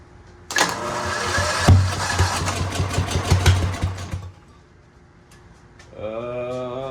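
A seized Mighty Mac 8C skid steer is cranked on a battery charger, its engine churning loudly for about four seconds with rapid uneven chugs before stopping, then a steady tonal whine follows; no talking.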